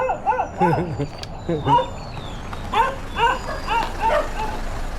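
A dog barks, yips and whimpers in a series of short, close, high-pitched bursts with brief pauses between them, over a steady background hiss.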